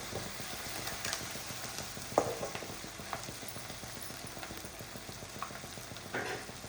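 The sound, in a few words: stirring egg chammanthi mixture frying in pan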